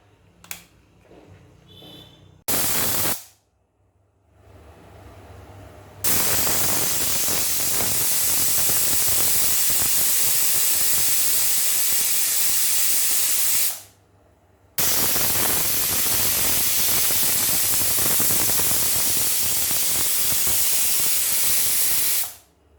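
A pressure cooker cooking masala rice lets out long, loud steam whistles, two sustained hissing blasts with a short break between them, after quieter kitchen sounds at the start.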